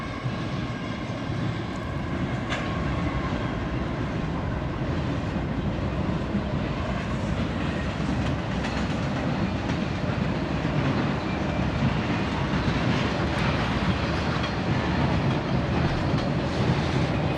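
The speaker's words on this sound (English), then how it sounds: "Another train coming." Train rolling past on nearby tracks near a Route 66 ghost town in the California desert, a loud, steady rumble with faint rhythmic clatter that holds unbroken throughout.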